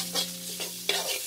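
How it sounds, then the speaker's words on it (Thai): Pork fat sizzles in a pan over medium heat and is stirred to render out lard, giving a soft steady fry with a few scraping stirs. The whole thing is brief and close, with no voices. "เปิดไฟกลางๆเลยค่ะและใส่มันหมูของเราลงไปเลยนะคะ เราจะค่อยๆเกลียวให้น้ำมันหมูของเราออกมานะคะ"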